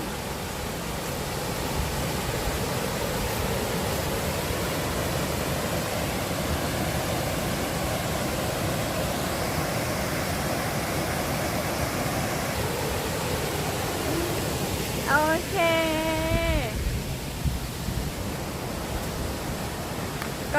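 The seventh tier of Namtok Chet Sao Noi waterfall in a Thai national park, a steady broadband rush of falling water heard close and continuous, with a brief chirping bird call partway through.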